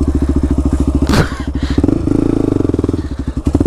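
Quad bike engine revving hard off-road, a loud close pulsing putter with a sharp clattering thump partway through before the throttle rises again.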